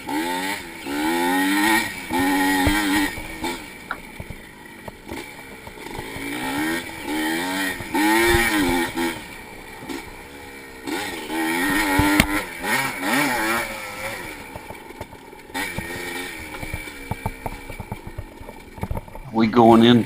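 A 1985 Yamaha IT 200 two-stroke dirt bike races in a vintage cross-country event, its engine buzzing and revving up and down throughout, close by, as someone talks over it the whole time.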